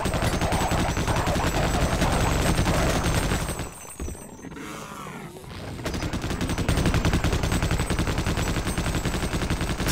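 Gunfire in Half-Life: Opposing Force during a co-op firefight, dense rapid automatic fire that breaks off briefly midway during a reload, then resumes, loud and sustained with no talk.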